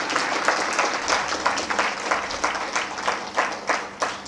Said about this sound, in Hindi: तालियां बजाएंगे स्वामी जी के लिए।